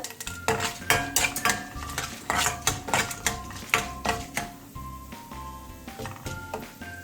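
Onions sautéing in a pan while being stirred for curd rice tempering, with repeated scraping and clinking of a utensil against the pan over a steady low sizzle, close and fairly loud.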